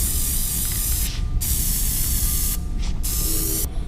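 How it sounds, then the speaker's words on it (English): Plasti Dip is sprayed onto car exhaust tips in short aerosol bursts, a close, loud hiss broken by a few quick pauses between passes. "Let's throw one more coat on there"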